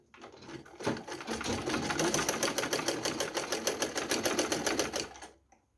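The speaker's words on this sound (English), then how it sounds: "So going right to the sewing machine to do that." A sewing machine stitches the knitted neckband of a school sweater, a fast, even mechanical chatter that starts up, runs steadily for about four seconds, then stops, with no talk over it.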